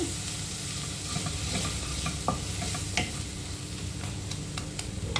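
Spices frying in hot oil for a capsicum and potato bhaji, a steady close sizzle with occasional stirring scrapes and taps of a spoon, no talk.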